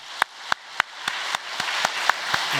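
Church congregation clapping in unison during a Sunday worship service, about nine sharp, evenly spaced claps in a steady rhythm, fairly loud and close.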